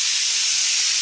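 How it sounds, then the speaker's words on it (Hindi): A pressure cooker cooking arhar dal lets out a loud, continuous high steam whistle and hiss, steady for the whole moment with nothing else over it. "और ये जो सीटियाँ बज रही हैं, हमारी जो दाल है अरहर की होगी"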